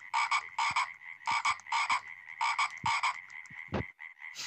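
A frog croaks in a steady rhythmic series of rasping pulses, paired bursts repeating for several seconds, close and clear with a few soft knocks between them and no talking.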